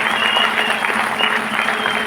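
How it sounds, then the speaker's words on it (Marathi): An audience claps loudly at a women's award ceremony in Vashi, a dense, even burst of many hands that carries on without a break. "जोरदार टाळ्या होऊन जाऊ द्या."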